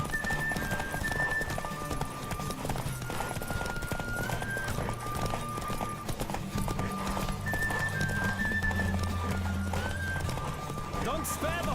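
Galloping hooves clop in a fast, steady rhythm with a horse whinnying in The Witcher 3, backed by music and a voice talking over the action.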